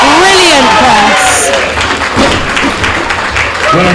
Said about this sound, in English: Everybody is cheering on everybody.